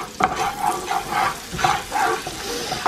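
Garlic sizzles in a frying pan as it is stirred, with a steady crackling fry and rhythmic scraping strokes of a utensil close by.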